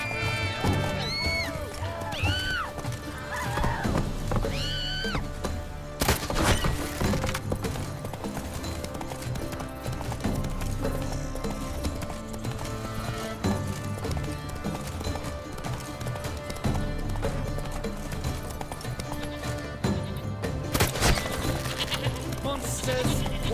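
Horse hooves clip-clop at a steady gallop through The Witcher 3: Wild Hunt, Blood and Wine, layered over continuous game music with a brief whinny near the start.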